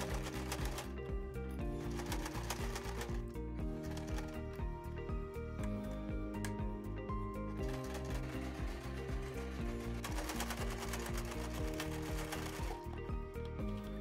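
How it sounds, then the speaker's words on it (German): A sewing machine stitching a bodice seam on a traditional dirndl bodice, running in a steady, rapid mechanical rattle for the whole stretch with brief pauses in speed. "Nähe langsam und schaue bei jeder Falte, ob diese korrekt liegt."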